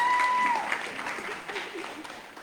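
Applause from an audience at a Peace Corps volunteer swearing-in ceremony in Samoa, a steady mid-level patter of many hands with some crowd noise and faint tonal sounds early on.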